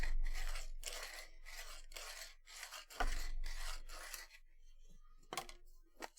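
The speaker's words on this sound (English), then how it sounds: "so I should do more sanding." Hand sanding of metal in steady rhythmic strokes, close and fairly quiet rasping scrapes repeating about every half second, then a pause with a few light knocks.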